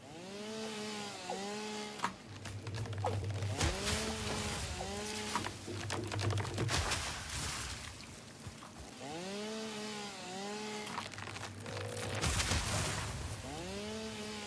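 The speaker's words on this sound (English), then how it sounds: "That's why you unlock the chainsaw real early." Chainsaw in the Satisfactory video game cutting through big trees, loud buzzing revs rising and falling in repeated bursts with short pauses between cuts, close and continuous over about fourteen seconds.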